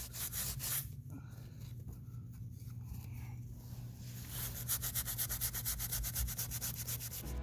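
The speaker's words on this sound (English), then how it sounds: "did a little wipe down, and now we're about to apply the bead sealer" A cloth or pad rubs back and forth on a pitted tire rim bead being cleaned before bead sealer goes on, giving close, quiet, scratchy strokes that speed into a fast, even rhythm near the end.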